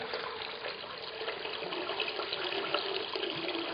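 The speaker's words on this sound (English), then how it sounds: "so a bit of water in there" Water is poured into an iPod, a steady close hissing splash of running liquid lasting several seconds without pause or speech.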